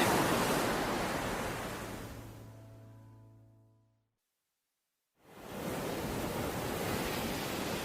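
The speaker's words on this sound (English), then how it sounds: "This is it, kiddos. Welcome to the ocean." Ocean waves wash in a broad, steady roar of surf that fades away, drops to a brief silence, then swells back to a full rushing wash.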